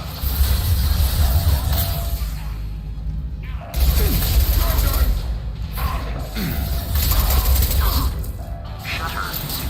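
A heavy shutter mechanism grinds shut in the Mass Effect game, a loud continuous mechanical rumble with ratcheting, creaking clanks and a brief drop near the middle, with game dialogue over it.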